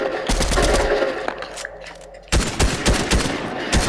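Rapid AK-style assault rifle fire in Fortnite, a dense burst of close, loud shots, a brief lull, then another fast string of sharp cracks.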